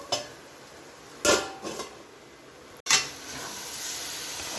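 A spatula scrapes and clinks against a pan of cooking raw mango curry: a light tap, two louder metallic scrapes, then another scrape over a steady sizzling hiss, close and alone.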